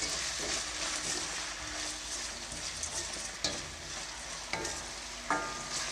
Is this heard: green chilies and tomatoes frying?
yes